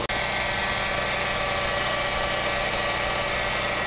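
A portable generator engine runs steadily beside a house, its close, loud drone holding constant without talk.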